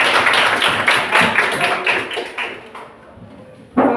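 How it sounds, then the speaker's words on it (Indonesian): Students in a classroom applaud after a group drama presentation, a brisk patter of claps from a small group that thins out and fades, followed by a single sharper sound at the end. "Bisa tepuk tangan."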